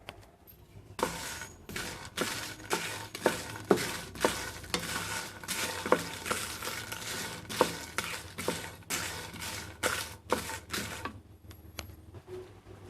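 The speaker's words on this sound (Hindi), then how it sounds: "मिर्चों को तकरीबन 2 मिनट हम हल्की आंच पे भूनेंगे।" Whole dried red chillies are dry roasted without oil in a pan over low heat for chaat masala, giving repeated, fairly quiet scraping and rattling strokes in a steady rhythm.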